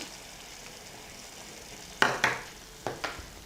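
Spoon stirring egg curry with coconut milk in a pan, giving four quick scraping, sizzling strokes in two pairs after a quiet stretch, close and clear.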